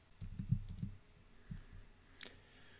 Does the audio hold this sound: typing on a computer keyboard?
yes